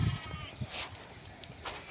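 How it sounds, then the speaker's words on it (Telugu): Goats bleat faintly in the distance in a rural village, a few wavering calls over soft outdoor background noise. "మేకల సౌండ్స్"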